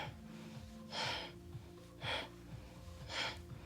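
Three loud, breathy exhales during an abdominal workout, spaced about a second apart, each rising clearly over a steady bed of background music, with softer inhales in the gaps.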